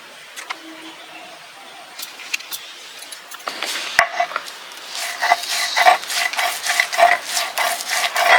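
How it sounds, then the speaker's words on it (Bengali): Ground black cumin and a paste of dried chillies being mixed by hand into kharkol leaf paste, with wet squelching and scraping that turns into a steady run of loud, rhythmic mashing strokes with no talking. "তারপরে যে সস, শুকনো লঙ্কা বেটে রাখছি, সেইটা এখন এই শাকের সঙ্গে মিশিয়ে দেবো।"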